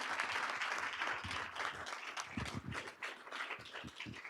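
A room claps at a Douglas County School District board of education meeting, a moderate, somewhat scattered round of applause heard from a distance, with uneven bursts and no talk over it.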